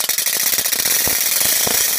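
A hand-cranked wooden ratchet rattles in a fast, steady run of dense clicks as its wooden tongues crackle against the toothed wood, loud and close with no voices.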